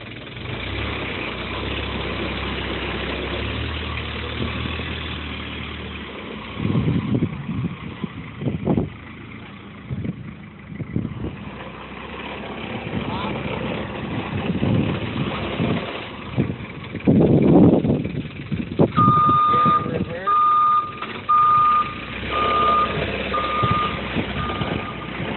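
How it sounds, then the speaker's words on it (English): A truck idles, then moves forward and backs up, its engine rumbling unevenly through gear changes, before a steady series of loud, evenly spaced reversing beeps sounds over the running motor. "Now I'm going to test all my forward and reverse functions."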